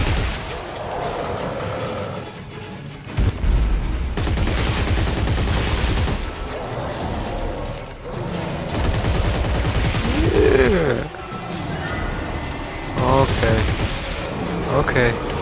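Gunfire in the co-op video game Dead Space 3, with bursts of shots recurring through the clip and heavy game effects and noise, while players talk over the action.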